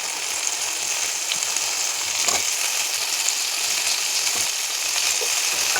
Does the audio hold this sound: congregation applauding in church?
no